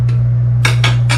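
A Kelly Kettle 0.8 liter camping pot with its lid and grill is handled, giving three short metallic clatters near the end of a steady low hum, each clang distinct and close.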